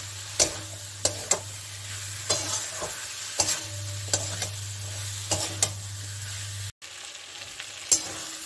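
Green jackfruit sautés and is stirred in a pan with spices: a continuous close sizzle, punctuated by repeated clicks and scrapes of the spatula, over a low steady hum, with no talking.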